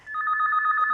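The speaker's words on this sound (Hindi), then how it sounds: "Answer the phone." A telephone rings in a domestic sitcom scene, one steady electronic trill that starts abruptly and holds loud and close for about a second.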